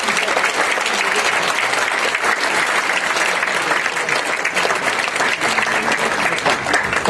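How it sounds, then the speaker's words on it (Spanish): Strong, steady audience applause at an education congress in Peru, dense even clapping from a large crowd filling the room without a break. "un fuerte y caluroso aplauso"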